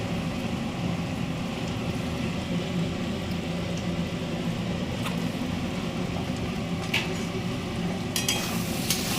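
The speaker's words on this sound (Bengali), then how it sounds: "এটা এবার নাড়াচাড়া দিয়ে দেবো। এটার মধ্যে একটু টমেটো সস দিয়ে দেবো।" A frying mixture with tomato sauce is stirred in a pan, giving a steady, close sizzle with scattered scraping and clicking of the spoon that grows sharper near the end.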